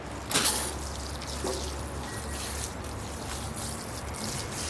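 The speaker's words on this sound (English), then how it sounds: "I am going to water the whole planting now." Water poured steadily over a larch bonsai forest planting, washing sand across the soil surface; a continuous close splashing and trickling stream after a brief louder start.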